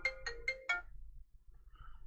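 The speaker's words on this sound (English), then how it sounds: "He's trying to call your phone." Mobile phone ringtone for an incoming call, four quick bright electronic tones in a fast rising burst, moderately loud and close, then a quiet room with a faint murmur.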